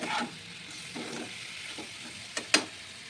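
Dry spices are stirred and fried in a hot pan with a soft, low sizzle and a few scraping stirs, and a sharp clatter stands out near the end.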